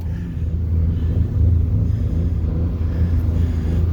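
A car stuck in snow after a blizzard, its engine held high against the rev limiter, a loud, steady close roar and rumble lasting throughout, with no talking.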